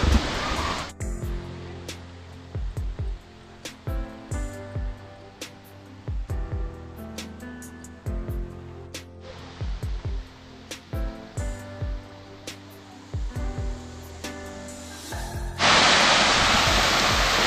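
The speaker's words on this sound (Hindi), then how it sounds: "तो यो है भाई जीपी का वाटरफॉल" A waterfall at Jibhi in Himachal Pradesh, India, gives a steady broadband rush beneath prominent music, then swells into a loud, close roar of falling water near the end.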